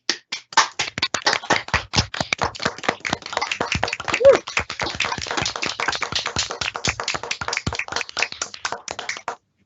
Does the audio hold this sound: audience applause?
yes